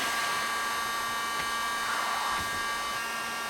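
Welding a teak panel joint gives off a steady, loud blowing hiss like a hot-air blower, running without a break through the whole moment with no voices over it.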